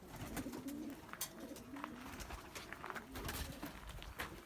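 Pigeons coo softly and repeatedly at a distance, the low calls blurred by steady background noise, with no voices in between.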